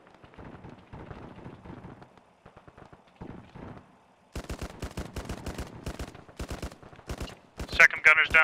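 Enemy gunners firing in a military shooter video game: dense, rapid bursts of automatic gunfire, faint and distant at first, then loud and close, with a voice talking underneath.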